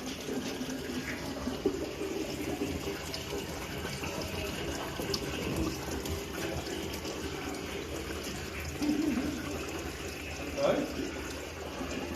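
Water trickling and splashing steadily with a hollow, pouring quality as it drains from engine oil, voices talking over it in the background.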